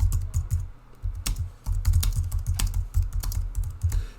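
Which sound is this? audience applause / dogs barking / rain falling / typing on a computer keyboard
typing on a computer keyboard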